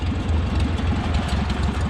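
A farm tractor engine idles close by with a steady, loud, low rumble and throbbing rhythm, alone without any talking.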